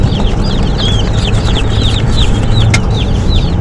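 Many Cornish cross chicks peep in repeated high chirps, close and fairly loud, over a steady low hum as they travel to a farm brooder.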